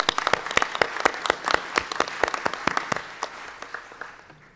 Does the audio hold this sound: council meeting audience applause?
yes